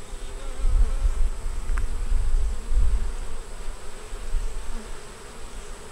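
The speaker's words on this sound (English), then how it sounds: "it has some moving around quick little bees" Honey bees crawling on a brood frame from a double-deep five-frame hive buzz close by, a wavering hum that swells in short bursts as individual bees fly near.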